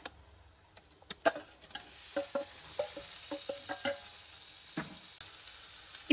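Chicken pieces fry in a pan with ginger garlic paste while a spoon stirs and scrapes, giving a string of sharp clacks and taps over a soft, steady sizzle, with no talking.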